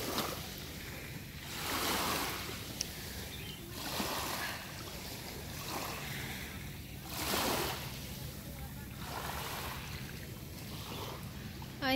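Sea water surging up the shore at Wu Kai Sha beach in Hong Kong, with waves washing in and receding in slow, rhythmic swells every couple of seconds, soft and fairly close, with a light wind.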